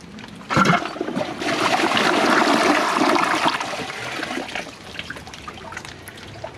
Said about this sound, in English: Let's see how it flushes.